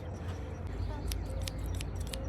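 Sharp scissors snip the flight feathers of a backyard homestead chicken's wings, a quick run of crisp cuts over a steady low rumble, close and distinct.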